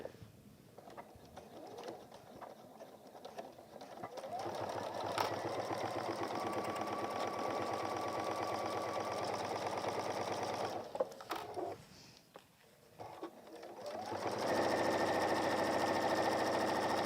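A sewing machine stitches a quarter-inch seam on a messenger bag, running in a long steady whirring burst, stopping briefly, then starting again at a faster, louder pace.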